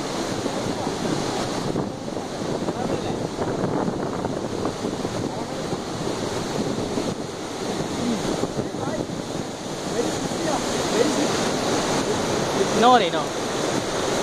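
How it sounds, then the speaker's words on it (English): The Kandapara waterfall in Kerala, a big evergreen cascade, gives a steady broadband rushing roar that runs continuously throughout, with a brief spoken voice near the end. "This is a great waterfall in Payanadu."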